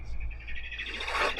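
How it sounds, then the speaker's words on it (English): Birds sing outdoors in summer, a steady run of bright chirps and trills over a low background hum, moderately distant. "you can probably hear the birds because they've gone a bit bonkers at the moment"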